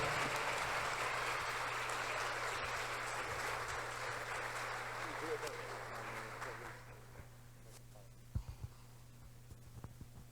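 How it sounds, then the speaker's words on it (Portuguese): Church congregation at a Sunday family celebration service applauding strongly to welcome a visiting preacher; sustained clapping fades out after about seven seconds, leaving a quiet room with a low hum and a few thumps. "Vamos receber ele aplaudindo Jesus bem forte."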